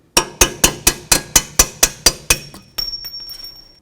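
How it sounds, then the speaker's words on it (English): A hammer drives a punch against a ball joint pinch bolt on the front lower control arm of a 2008-12 Chevy Malibu. Ten sharp, ringing metallic strikes land at an even pace, followed by a few lighter, rattling taps, all close up. "I might need to use a punch and a hammer to get this out of here."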